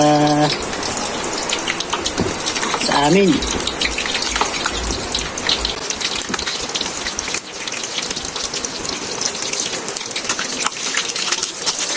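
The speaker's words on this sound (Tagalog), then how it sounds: "dahil umuulan po. Ilang araw na pong umuulan dito sa" Rain falling outdoors, a steady dense patter on surfaces throughout, with a brief voice near the start.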